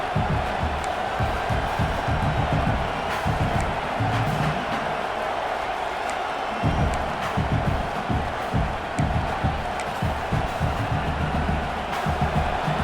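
A stadium crowd roars steadily through a college football game between NC State and UCLA, a dense, continuous wall of cheering and chanting with rhythmic thumping pulses underneath.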